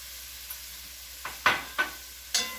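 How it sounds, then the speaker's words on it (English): Vegetables softening in a pan for a spring chicken stew, with four or five quick scraping stirs over a faint, low hiss. "stir it around just for a minute until you see that it's kind of softening"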